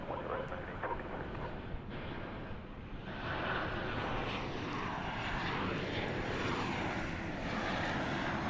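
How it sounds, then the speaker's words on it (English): A Boeing 737-800 on approach to land at Dallas Fort Worth airport, arriving from Querétaro, Mexico, makes a steady, loud broadband engine roar that swells slightly after a few seconds and holds, with some wind noise. "Flight 781 coming in from Querétaro in Mexico. It's a 737-800."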